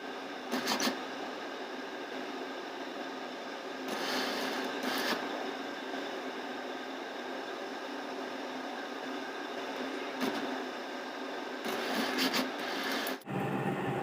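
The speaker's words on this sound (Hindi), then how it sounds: "सिलाई स्टार्ट करें।" A sewing machine runs steadily while stitching a peplum frock, a continuous even whir with a few brief louder clatters, close and alone without talk.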